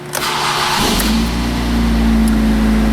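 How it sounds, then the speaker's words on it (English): A Ford car engine cranks and catches after a repaired engine control module and CAN network fault, then settles into a steady, loud idle that runs on for a few seconds with no talking. "And now the car starts and runs"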